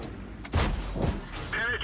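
Tank cannon shots in World of Tanks, fired around an AMX ELC and a Leopard, two heavy booming blasts with rumbling tails, under game ambience.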